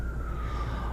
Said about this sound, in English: that police siren is leaving in the distance